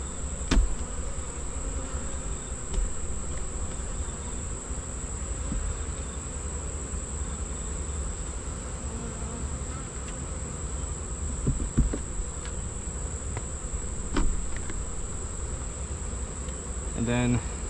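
Honey bees buzz steadily around an open hive box during a late-July hive check, a continuous close drone with a few faint knocks and clicks, and no one speaks.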